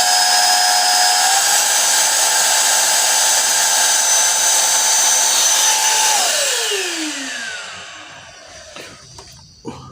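A Bolde Aqua Hoover vacuum cleaner motor runs with a steady, loud, high whine, then winds down and fades toward the end.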